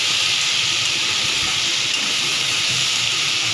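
Pointed gourd (potol) curry fries in a little oil in a pan, giving a loud, steady, unbroken sizzle with no distinct stirring strokes and no voices.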